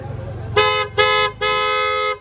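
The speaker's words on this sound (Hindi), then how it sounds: "ये क्रेटा साउंड हॉर्न रहने वाला है" An aftermarket Hyundai Creta-style horn fitted to a 2022 Tata Nexon honks three times up close, two short toots followed by a longer blast, over a low idling rumble.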